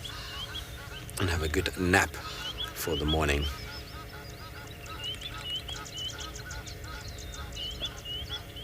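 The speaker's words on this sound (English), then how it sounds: "Might hear the Egyptian geese in the background, always making a lot of noise." Egyptian geese on a South African safari morning give loud, harsh repeated honks at mid distance, two raucous bursts, while someone talks and other birds chirp faintly in the background.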